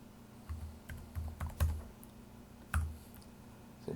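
Someone types employee payroll data into an Excel spreadsheet on a computer keyboard, producing irregular soft clacks and a few louder thumping keystrokes over a faint room hum.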